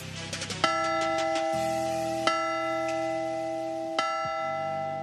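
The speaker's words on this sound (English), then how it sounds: "ring tonight's ceremonial mission bell" Ceremonial mission bell rung at a baseball stadium before a San Diego Padres game against the Cincinnati Reds, three clear resonant strikes spaced about two seconds apart, each ringing on with a long sustained tone over faint crowd ambience.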